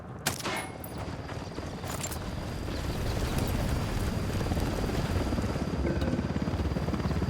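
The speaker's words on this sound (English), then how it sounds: "Helicopter, get down." Helicopter in the video game Ghost Recon Wildlands, a steady loud rotor roar that builds and holds throughout, with a few sharp bursts early on that may be gunfire.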